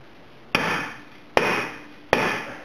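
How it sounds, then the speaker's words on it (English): Plastic dead blow hammer striking a Jeep Liberty rear axle part, three sharp separate blows with short ringing decay, close and loud with no talk. "plastic shop peen dead blow hammer."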